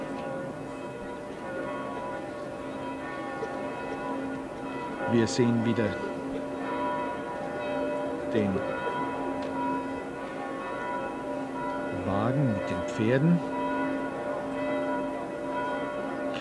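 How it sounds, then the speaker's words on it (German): Church bells of the Capuchin and Augustinian churches in Vienna ring steadily through the funeral of Empress Zita, their sustained tones carrying under German commentary and occasional crowd and street noise. "das sind bereits die Kirchenglocken der Kapuzinerkirche und noch die der Augustinerkirche"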